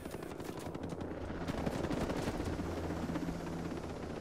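Rapid automatic gunfire bursts from the video game Ghost Recon Breakpoint, repeated crackling shots over a dense rumbling backdrop, steady and moderately loud throughout.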